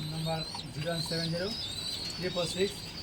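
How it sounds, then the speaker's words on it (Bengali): Soft, low pigeon cooing repeats under steady talk, with bird chirps above and nearby. "এগুলো সব রিফাত ভাইয়ের নিজের পার্সোনাল কবুতর"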